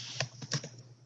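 A few quick keystrokes on a computer keyboard, two or three close, crisp clicks within a second over a faint electrical hum.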